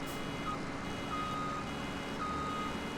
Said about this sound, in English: we're going to have to listen to this annoying beeping